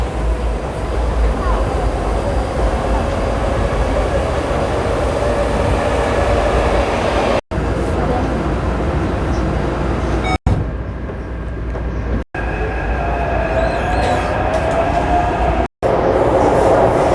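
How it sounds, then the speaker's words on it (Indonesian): A train rumbles past up close, loud and continuous, with faint wheel squeal and a few sharp clicking joints along the way. Voices are heard faintly in the background. "Itu keretanya, kita pulang."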